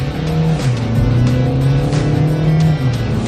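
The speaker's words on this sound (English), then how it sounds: "you put it in sports mode, pin your foot to the floor, and you really go" Volkswagen Ameo compact sedan with a DSG dual-clutch gearbox in sports mode accelerating hard, its engine note rising loud and close in a sustained drone with shifting pitch.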